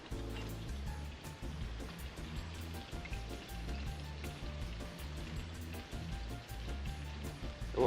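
Tomatoes sizzle in a frying pan and are stirred, giving a steady, faint, rain-like crackle throughout with soft clatter over it.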